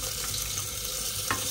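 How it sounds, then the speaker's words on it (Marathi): Water pours steadily into a pan of prawn masala in a home kitchen, making a continuous close splashing rush with a brief louder splash near the end and no speech. "तर हे मी याच्यामध्ये असं पाणी घातलं आहे"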